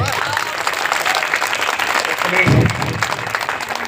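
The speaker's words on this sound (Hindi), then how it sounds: "एक बार जोरदार तालियां बजाओ तो सही" Audience clapping in front of a stage at a Buddha Purnima festival, a dense sustained burst of applause with crowd murmur, fairly close and loud.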